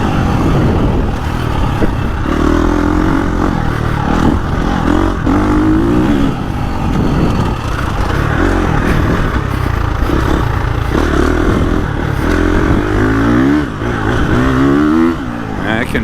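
A KTM 350 XCF dirt bike is ridden over a GP track, its engine revving and clattering continuously up close with rising and falling pitch, while a rider talks over it at times.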